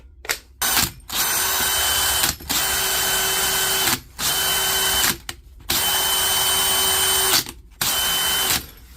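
A repaired DeWalt power tool's motor whirs in about seven short bursts of trigger-pulled running, separated by brief silences, loud and close with no talking.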